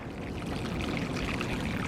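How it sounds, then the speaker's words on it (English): Water pours steadily onto newly planted dormant fruit cuttings, such as grape, berry or fig, in a continuous close splashing rush with no pauses. "Water them in"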